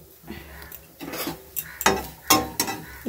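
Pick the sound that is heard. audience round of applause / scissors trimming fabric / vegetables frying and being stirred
vegetables frying and being stirred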